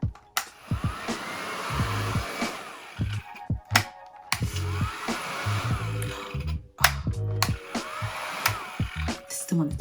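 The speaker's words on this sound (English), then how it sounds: "I'm going to take the blow dryer on like a warm high setting" A handheld blow dryer on a warm high setting stretches washed natural curls, a loud steady whoosh that cuts off and restarts in bursts as the hair is worked section by section.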